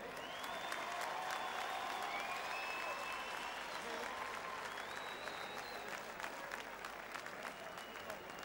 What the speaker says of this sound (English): a round of applause for the gallant Henry Coyle